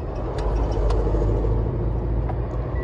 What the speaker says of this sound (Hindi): तो बोल रहे अभी गाड़ी बंद करके चालू करो,